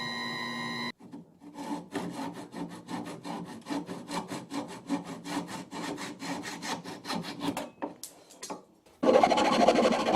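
A hacksaw cuts through a wooden chisel handle in steady, rhythmic back-and-forth rasping strokes, close up, with a short pause near the end before a louder, denser burst of scraping.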